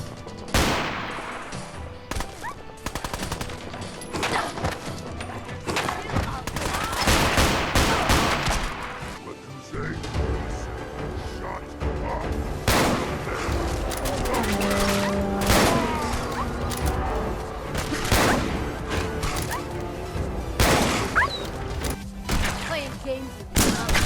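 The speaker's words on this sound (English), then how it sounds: "It changes the gun sounds, the sounds that the guns make when they shoot" Dense modded gunfire in Fallout 4, with rapid automatic bursts and sharp single shots cracking repeatedly through a busy battle, loud and close, with voices talking at times.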